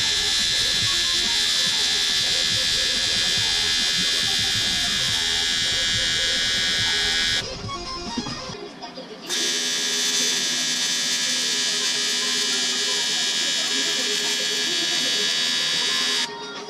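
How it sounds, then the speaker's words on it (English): Welding on charge pipes in a fabrication shop gives a loud, steady electric buzzing hiss that drops out briefly partway through and then resumes, continuing for many seconds. "hopefully I got enough clip for you guys to check out some welding action"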